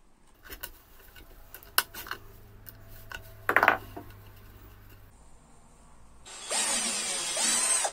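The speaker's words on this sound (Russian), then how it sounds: "высверливаем отверстие и на другом месте" A cordless screwdriver boring a hole, heard as a close, steady whirring buzz in the final seconds after scattered clicks and handling knocks from the tool and workpiece.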